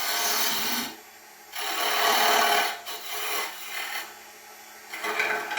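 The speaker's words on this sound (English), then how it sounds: "I'll get out a square nose piece of carbide, just to tidy that up there, and again on that shoe." Square-nose carbide tool cutting spinning wood on a lathe: a series of raspy scraping passes, each lasting about a second with short pauses between, close and fairly quiet.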